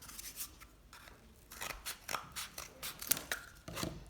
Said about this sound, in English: I'm gonna cut this toilet paper tube into a little ring.